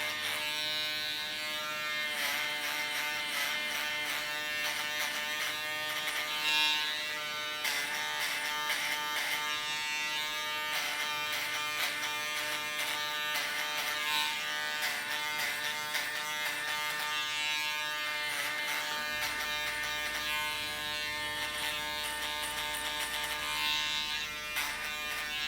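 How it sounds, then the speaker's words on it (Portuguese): An electric shaver buzzes steadily and close during a men's fade haircut, a constant harmonic hum lasting the whole stretch with small shifts as it moves over the head, and nobody talking. "Agora fizemos a marcação, passamos a shaver."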